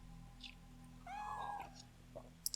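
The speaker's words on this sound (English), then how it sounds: "because now the cat's meowing" A cat meows in the video game Fatal Frame 3, one clear drawn-out meow over a quiet ambient game hum, heard alone without talk.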